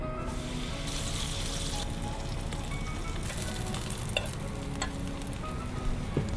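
Vegan grilled cheese sandwich frying in a pan, a steady close sizzle with faint crackles and a brief scrape as it is flipped, no talk.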